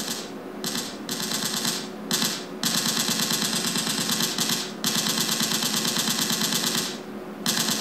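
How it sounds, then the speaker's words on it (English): Machine gun sound effect played from an iPod over a Bluetooth speaker for a Halloween prop, sustained rapid rattling bursts with brief gaps between them, loud and close. "So hopefully it'll seem a little bit more realistic, like he's actually firing a machine gun."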